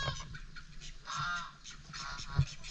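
Muscovy ducks honk and call in brief nasal bursts at moderate distance, with a thump near the end, during an attempt to catch a duck for release; no one speaks.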